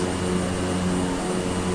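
Mokulele fixed-gear propeller airplane climbing just after takeoff from Hilo, a steady loud engine and propeller drone heard from inside the cabin.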